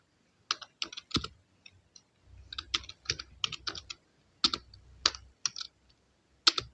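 Someone types on a computer keyboard in uneven bursts of sharp, close key clicks with brief pauses between them, heard alone in a quiet room.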